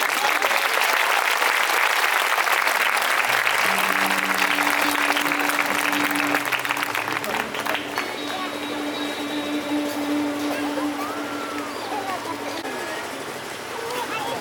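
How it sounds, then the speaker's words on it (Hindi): Congregation clapping hands in praise at a bishop's consecration service in a church, a dense sustained wash of applause that thins over time while music or voices continue underneath. "You can clap your hands and praise Him."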